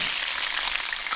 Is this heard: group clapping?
no